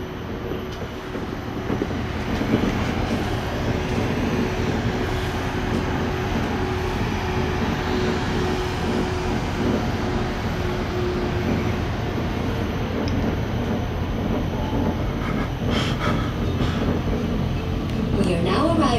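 A Sentosa monorail train in Singapore running steadily with a continuous low rumble and rolling rail noise throughout, loud and close from inside the car.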